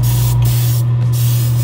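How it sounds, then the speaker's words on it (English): Clear coat paint sprayed over a red base from a close spray gun, a loud continuous hiss with brief interruptions and a steady low hum underneath. "And now I'm going to spray over that red"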